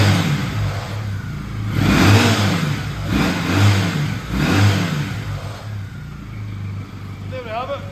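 A 2008 Triumph Bonneville T100 motorcycle engine idles, then is blipped through three rising-and-falling revs before settling back to idle, close and loud.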